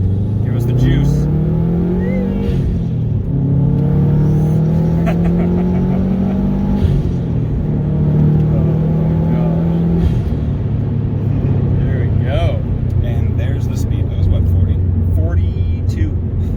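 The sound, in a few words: Subaru STI car accelerating hard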